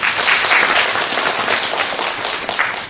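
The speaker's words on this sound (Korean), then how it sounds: "소개해 주신 이영재 연구원님께 다시 한번 큰 박수 부탁드리겠습니다" Sustained audience applause at a bidding-practice (qualification review) training seminar, dense steady clapping from a room full of people lasting the whole stretch.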